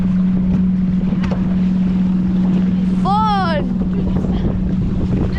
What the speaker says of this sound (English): that boat is loud.